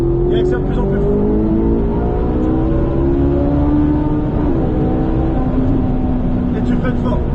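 A Ferrari 458 Italia accelerates hard on a circuit, its engine droning loud and close with rising harmonic pitch sweeps through gear changes, while a voice gives instructions over it.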